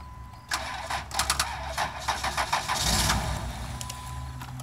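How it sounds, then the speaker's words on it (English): A 6.5-liter turbo diesel engine with 130,000 miles cranks in a driveway, a series of rhythmic starter pulses building into a brief rough catch before settling into a lower running rumble. "Let's see if it cranks up."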